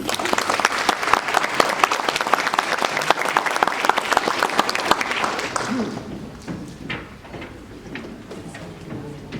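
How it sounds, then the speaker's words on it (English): Audience applause for the mayor at a State of the City address, dense clapping for about six seconds that then thins out to scattered claps and room noise. "A round of applause for Mayor Benton, please"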